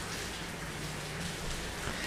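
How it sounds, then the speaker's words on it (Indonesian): Heavy rain falls in a steady, even hiss at low level, continuous and unbroken with no voices over it. "di tengah hujan yang deras"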